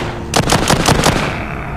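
Automatic gun firing in the zombie shooter game The Walking Zombies 2, a loud rapid burst of about six shots in quick even rhythm, then a short fading echo, with no talk.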